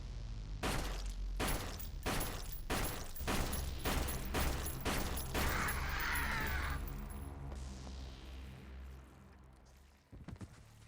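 Rapid bursts of gunfire cut down zombies in a horror video game, roughly ten loud evenly spaced shots over several seconds, then a short lull and a final pair of cracks.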